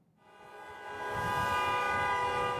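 Truck horns blaring at a street protest against COVID mandates in Canada: one loud, sustained horn tone that swells from a quiet start and holds steady, with no talking.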